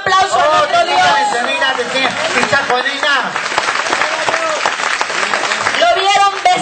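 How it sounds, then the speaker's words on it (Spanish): A church congregation bursts into sustained applause, loud and continuous, with crowd voices and babble mixed throughout the clapping. "¿Cuántos le dan un aplauso a nuestro Dios?"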